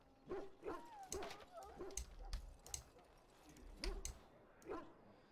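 Mabari war dogs in the Dragon Age: Origins video game, a pack of hounds readied for battle, some sick from Darkspawn blood. Several quiet barks and whimpering yips come in irregular bursts, fairly faint and without talk.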